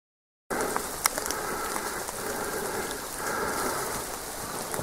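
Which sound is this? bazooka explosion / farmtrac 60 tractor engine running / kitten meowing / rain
rain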